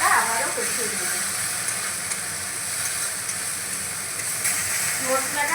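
Masala with half a big spoon of coriander powder sautéing in a pan while prawns and pointed gourd are being prepared, a steady close sizzle and hiss running throughout with faint stirring, at moderate loudness.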